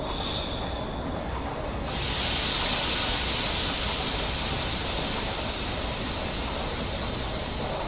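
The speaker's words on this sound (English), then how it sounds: "Honestly, the brake sounds are really nice too." Train brakes on a DW AS-616 locomotive in Train Simulator Classic give a steady, loud air hiss that swells after a brief softer start and then holds evenly to the end, with no voices.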